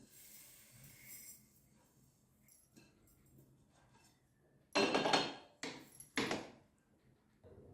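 Cooled cumin seeds ground into powder, likely in an electric grinder: after quiet clinks and handling, three short, loud whirring bursts follow one another in quick succession, each stopping abruptly.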